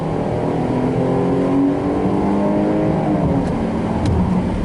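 A 2021 Jeep Grand Cherokee L, a heavy three-row SUV of about 5,000 pounds with a V6 engine, pulls away under acceleration. Its engine drones loud and steady from close by, rising gradually in pitch, with no talk over it.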